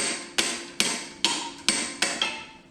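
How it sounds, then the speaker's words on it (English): Five sharp metallic whacks of a wrench striking the carburetor on a 1950s Oliver crawler tractor, evenly spaced about half a second apart, each a bright clang with a short ringing decay, close and alone. "Give it a couple whacks with a wrench and see if it'll come free."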